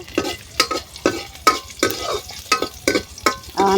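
Onions browning in a pan with chilli powder, coriander powder and turmeric, a steady sizzle broken by repeated scraping stir strokes, close and fairly loud, with no talking.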